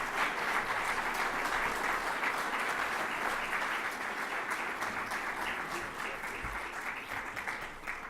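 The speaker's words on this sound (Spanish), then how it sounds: "Un aplauso para la doctora." Sustained audience applause at a conference, dense steady clapping from a large crowd filling the whole stretch at an even level, tapering slightly toward the end with no talk over it.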